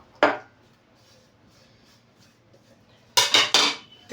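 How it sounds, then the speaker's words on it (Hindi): Ground sesame seeds being mixed in a container for healthy winter laddoos: a sharp clatter at the start, then a quiet stretch, then a burst of three scraping, clinking knocks near the end. "जैसे सबसे पहले मैं इस तिल को मिक्स कर देता हूँ।"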